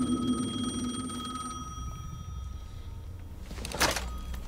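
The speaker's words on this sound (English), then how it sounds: "The phone again." A telephone rings in Alan Wake 2, a steady electronic tone with repeating pulses that holds for a few seconds before a sharp thunk near the end, fairly faint against a low ambient hum.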